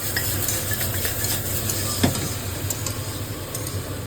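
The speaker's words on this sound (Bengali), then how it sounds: "আজকে আমাদের শীতের একটা পছন্দের জিনিসও হচ্ছে বিট গাজর ভাজা।" Beetroot and carrot fry in a pan with a steady sizzle, a utensil stirring and scraping through it, and one brief clink near the middle.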